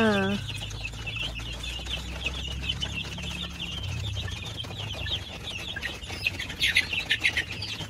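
Six-week-old Dekalb White chickens cluck and chirp together in a pen, a close, lively flock chatter that grows busier toward the end, with a voice speaking briefly over it.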